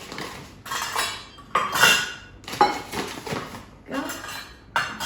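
Flour is measured into a big mixing bowl with repeated clinks and scrapes of a measuring cup knocking against the bowl, in several close, fairly loud bursts separated by brief pauses.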